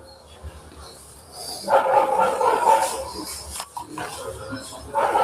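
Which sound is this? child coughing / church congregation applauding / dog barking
dog barking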